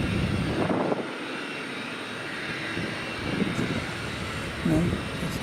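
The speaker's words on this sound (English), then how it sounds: "if it's a Cessna Citation you'd like to see," A Cessna Citation business jet at Austin-Bergstrom International Airport, heard as a steady, moderately distant turbine whine and rumble with some wind-like noise, fairly faint and continuous throughout.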